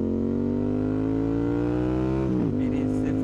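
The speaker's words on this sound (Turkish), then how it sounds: "Egzoz taktık motora. Yani egzoz takmadık da aslında tapasını çıkardık." A Yamaha MT-07 motorcycle with its exhaust plug removed idles with a loud, deep, throbbing engine note that rises slightly, then blips briefly before settling back, close to the listener.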